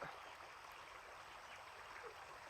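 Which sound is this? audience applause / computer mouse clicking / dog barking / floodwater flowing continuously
floodwater flowing continuously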